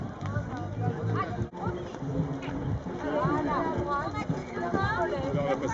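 Horses' hooves clip-clopping at an outdoor show jumping event, rhythmic hoof beats mixed under constant crowd chatter and voices across the grounds.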